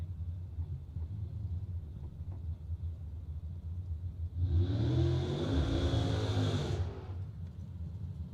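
A Chevy Vega drag car that has run Pro Mod and Top Sportsman rumbles low at the start line, then revs hard for about two seconds in a loud, close burst before dropping back to idle.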